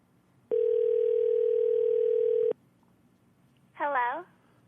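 A telephone call is being placed: one unbroken two-second tone from the handset, then silence, then a brief voice at the end.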